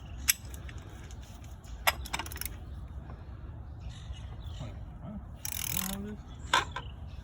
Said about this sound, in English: 1/2-inch ratchet has been found.